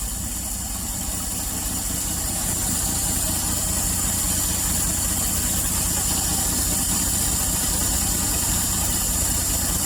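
A 1961 Rambler American engine idles steadily with a rhythmic exhaust pulse, loud and close throughout, a continuous throbbing rumble with no pauses.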